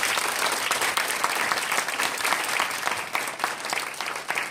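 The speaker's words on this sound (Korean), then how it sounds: "그런 여러분들에서 박수 한번 쳐요" Steady applause from an audience at a home-meeting talk, a dense, even wash of many hands clapping that holds at a constant level for several seconds.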